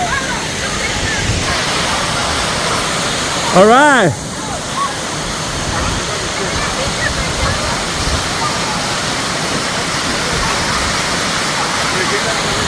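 The Dinkey Creek waterfall roars steadily and loudly, a constant broadband rush of falling water that fills the scene, with a brief louder splash partway through and a short spoken remark nearby.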